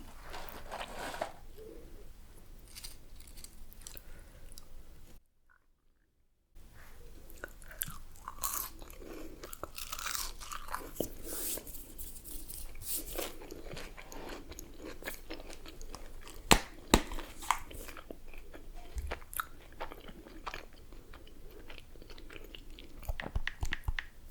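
Someone eats McDonald's french fries close to the mic, with soft crunching and steady chewing running throughout and a brief silent gap near the start.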